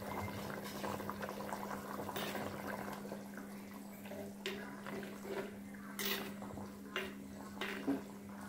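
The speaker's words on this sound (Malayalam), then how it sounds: "ഈ സമയത്ത് നമ്മുടെ കറിയൊക്കെ നന്നായിട്ട് തിളച്ച് വന്നിരിക്കുകയാണ്" Shark curry boiling in a pot, giving a steady, soft bubbling simmer with occasional louder pops and splutters, heard close and fairly quiet.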